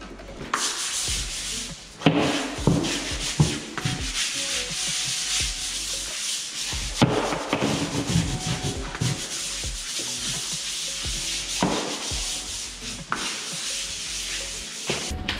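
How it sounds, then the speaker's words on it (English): A stiff scrub brush works acid stain into a concrete barndominium floor, giving close, rhythmic rough scrubbing strokes in repeated back-and-forth bursts with short breaks, no talking. "I'm gonna come back and use the scrub brush."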